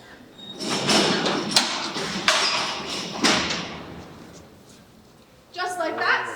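The heavy steel cell door mechanism at Alcatraz prison opens cell 7 with a run of loud metallic thuds and sliding clanks, echoing in the cellblock, then a voice speaks near the end.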